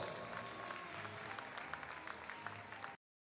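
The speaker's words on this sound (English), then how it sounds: "Let's give our contestants a huge round of applause." Crowd applause for contestants in a gym during a high school men's varsity basketball game, a sustained mass of clapping and cheering that holds steady for about three seconds and then cuts off abruptly.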